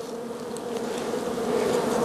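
Steady, dense buzzing of many honeybees close by from a hive with its top removed, a continuous hum that swells slightly louder toward the end with no voices.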